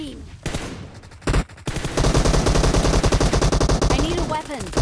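Gunfire in a shooter video game, with loud sustained rapid automatic fire dominating, broken by brief gaps early on.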